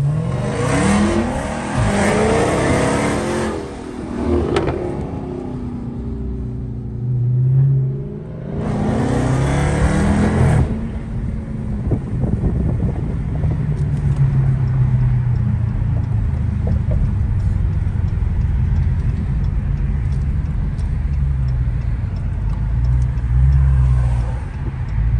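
A tuned Dodge Charger Hellcat with a mid bumper delete exhaust revs hard and loud in repeated bursts, rising and falling, then settles into a deep, rumbling idle with occasional blips, heard outdoors at night.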